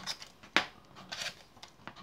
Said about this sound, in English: So you're going to just cut around the magnet with your scissors